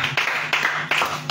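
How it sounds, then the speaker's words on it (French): A church congregation applauding during a prayer vigil, a short burst of many hands clapping with uneven surges, loud and close. "On acclame le Seigneur Jésus pour la vie de la servante de Dieu"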